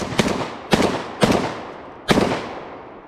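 Four sharp, loud blasts from a Black Aces Tactical FD12 bullpup shotgun loaded with double aught buckshot, each followed by a short decaying echo, spaced unevenly about half a second apart.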